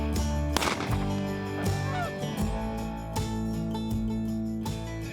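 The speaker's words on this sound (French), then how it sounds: "les oies blanches sont super hautes dans le ciel" A flock of migrating snow geese honks high overhead, with many overlapping calls layered over a steady low hum, fairly loud and continuous.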